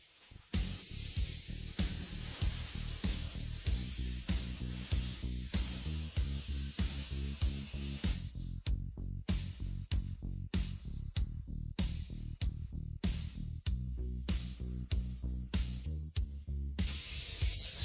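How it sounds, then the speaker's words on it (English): Spray gun laying clear coat on a Toyota Century body during a paint job, a steady close hiss broken by rapid on-off bursts toward the end, with no talking. "Spraying Clear Coat."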